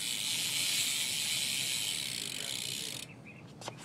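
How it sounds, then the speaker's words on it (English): Primo cassette BMX hub ratchet freewheeling on a Kink Curb 2012 bike, a loud, dense, steady buzz of rapid clicks held for about three seconds, then stopping with a couple of faint clicks. "If you want, I could give you a hub check. Hub sound, I mean."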